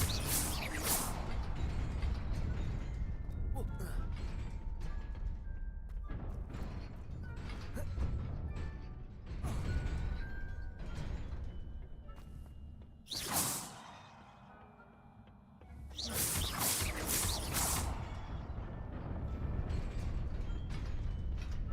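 In the Hogwarts Legacy video game, the Reparo repair spell makes a long stretch of magical mechanical creaking, ratcheting and clattering, with swooshes and louder crashing bursts as broken pieces shift and reassemble. Near its end it drops to a brief lull before swelling again.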